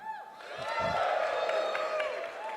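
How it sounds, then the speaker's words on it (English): Live podcast show audience cheering and whooping loudly, a sustained crowd roar of many voices that swells and holds for a couple of seconds. "You just cheer for this one."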